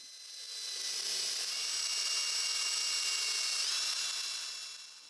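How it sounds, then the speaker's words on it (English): Power drill boring bolt holes through a disc sander mount in a home workshop, a steady high whine running continuously for several seconds with a slight pitch shift near the end, no voices. "Here I'm centering and marking the bolt holes and drilling them out."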